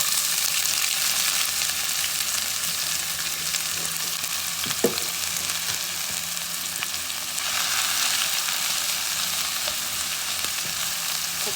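Onions added to a pan of caramelized sugar fry with a loud, dense, unbroken sizzle throughout, with a single faint clink of a utensil midway and no one speaking.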